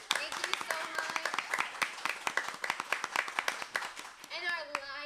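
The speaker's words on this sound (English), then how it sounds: "Can we please give them a big round of applause?" Audience applause for sponsors at a Seattle wellness event, brisk close clapping from a modest crowd lasting several seconds, with a voice starting up at the very end.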